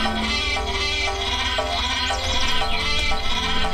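Sheep in the Worms: Crazy Golf video game bleat loudly and continuously, layered over steady game music and effects, close and without pauses.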